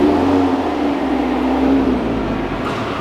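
A car engine idles and revs at an indoor car show, with a loud, steady rumble throughout and no voices.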